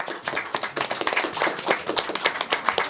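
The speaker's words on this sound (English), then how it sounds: "And another round of applause to our moderator," Dense, continuous applause from a press conference audience honors moderator Gordon Chang, many hands clapping at once in a busy, unbroken patter that holds steady throughout.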